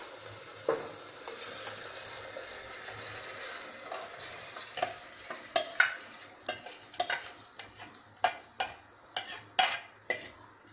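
Whole brown lentils stirred into masala roasted on medium heat in a pressure cooker, with a soft sizzle beneath a series of sharp metallic clinks and scrapes from a spoon against the pot, irregular and close.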